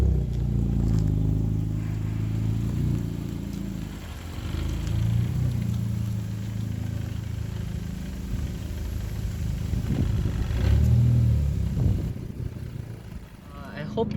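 A Honda Civic Type R FK8R on the move, its engine a steady mid-pitched drone that swells and eases under ongoing talk from people inside the car.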